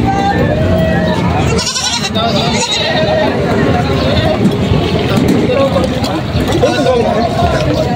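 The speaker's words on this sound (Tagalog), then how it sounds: "May mga kambing dito sa Tagalog." Goats bleating amid the busy hubbub of a livestock market in Padre Garcia, Batangas, with overlapping calls and constant crowd chatter; people talk throughout.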